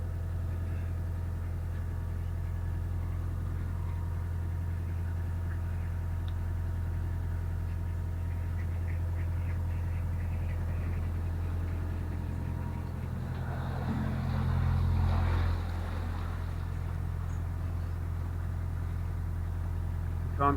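A 44-foot canal narrowboat's steady low engine drones throughout, idling evenly with a brief swell of extra rumble and churning near the end as the boat turns.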